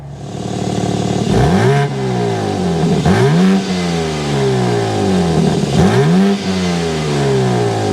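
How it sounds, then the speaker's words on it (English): A 2024 BMW M4 Competition engine revs hard in three big rising-and-falling surges, loud and close, with a throaty exhaust roar and steady idle between pulls. "start it up so you can hear that exhaust noise."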